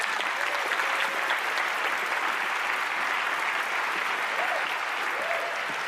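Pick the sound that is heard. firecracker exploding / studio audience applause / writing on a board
studio audience applause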